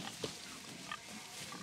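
Pigs grunt on a farm, a few short snorts rising over a steady outdoor background hiss at moderate distance.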